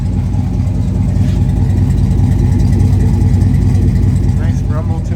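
A 1985 Chevrolet C10 Silverado short box with an LS 5.3L V8 swap and side-exit pipes idles outside, giving a steady, loud, deep rumble that holds even throughout.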